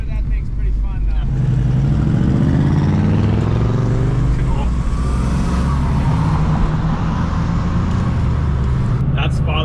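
A faux Ferrari go-kart car driving on a road, its loud engine rising in pitch as it accelerates and passing close by, then fading.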